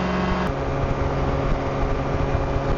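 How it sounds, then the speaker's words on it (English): A Power2Fly Falcon tandem trike's engine runs at a steady drone during flight, a continuous even hum with low tones and no talk, heard as if from the seat. "The engine definitely sounds quieter."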